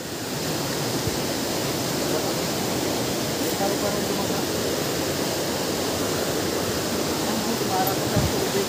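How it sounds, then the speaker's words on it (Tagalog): Heavy water crashes at Busay waterfall, swollen by a storm. It is a steady, loud, full-bodied roar that fills the whole stretch without a break. "Grabe, sobrang lakas mga kalahi ang tubig sa Busay."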